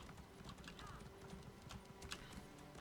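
Horse hooves galloping in Elder Scrolls Online, a steady clip-clop rhythm running under game ambience for about three seconds, fairly quiet and continuous.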